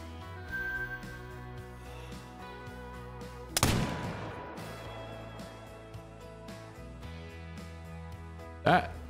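A single sharp muzzleloader shot at an ibex in the hunting video game Call of the Wild rings out loud after a quiet stretch of ambience and a low voice. A reverberating tail follows, and a second brief loud burst comes near the end.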